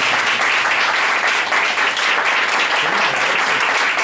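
Audience applause at a poetry recital honoring Vicente Huidobro, a steady, dense wash of many hands clapping that stays loud and even throughout with no voices on top.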